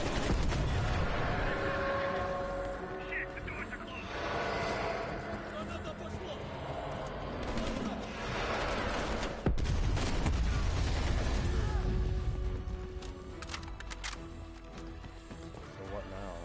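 SKS rifle fire and other gunfire in Call of Duty: Black Ops, with sharp repeated shots and bursts mixed with game effects under continuous talking from a player.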